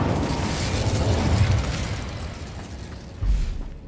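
A fire spell cast in Hogwarts Legacy gives a loud, sustained whooshing roar, followed by a deep, punchy burst near the end.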